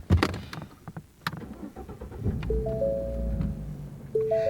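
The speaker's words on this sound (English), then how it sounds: "It's a V6 with dual exhaust, but it's still got a decent sound." A Ford car with a V6 engine and dual exhaust cranks over and starts, preceded by a few clicks and knocks, then settles into a steady, close, moderately loud idle with a low tonal rumble.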